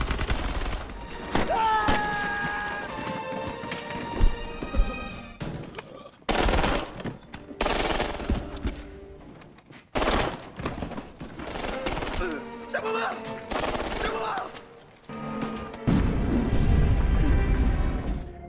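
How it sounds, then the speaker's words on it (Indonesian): Gunfire from a Korean war film battle at a building, with bursts of shots, crashes and impacts in loud, dense stretches broken by brief pauses, mixed with score and shouting voices. "Komandan Park dan pasukannya menembaki mereka dan masuk ke dalam gedung."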